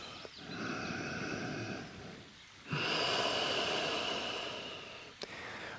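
Deep, slow breaths during a yoga hip-opening flow, with a long, steady airy inhale or exhale, a short pause, then another sustained breath, close and clear with no talking.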